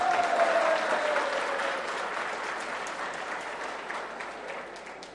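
An audience at a college festival speech breaks into sustained applause, loud clapping from a large crowd that fades slightly over several seconds, with a faint voice at the start.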